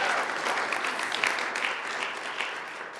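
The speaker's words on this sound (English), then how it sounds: "Big round of applause for the amazing Reverend Cylvia Hayes." An audience at a spiritual talk claps for the speaker in a short, moderately loud round of applause with a few sharper individual claps standing out.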